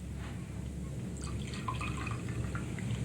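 A waiter pours a drink in a cafe, liquid trickling and dripping steadily for a few seconds, close and fairly soft, with a low background hum and no talking.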